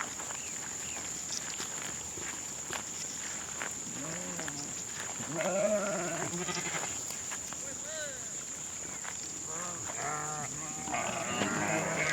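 Several sheep bleat in short, wavering calls amid a busy outdoor flock of breeding ewes, with a steady high insect-like whine and occasional footsteps or movement in the background.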